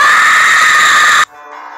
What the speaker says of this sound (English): It's only like Sonic .exe scream